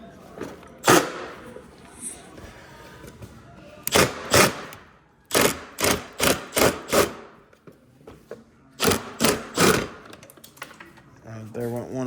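Impact wrench removing a hidden bolt on a 2009 Yamaha Raptor 700R ATV, loud rapid hammering bursts in several clusters separated by quieter gaps, with talk in between.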